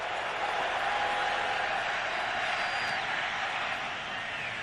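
A stadium crowd at a 2003 NFL game between Pittsburgh and Baltimore roars in a steady, dense wash of cheering and noise that swells slightly and then eases.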